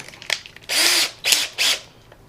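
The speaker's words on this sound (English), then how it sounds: "this is what a spade bit does with a drill that has a battery pack to it" Close, loud bursts from a cordless battery drill boring wood with a spade bit: three separate spins of the motor, each starting and stopping sharply, with quiet gaps between them.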